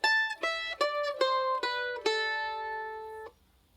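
A mandolin picks a single jig measure of about six plucked notes in a lilting rhythm, the last note ringing out before being damped. Each note is clear, close and moderately quiet, with no talking over it.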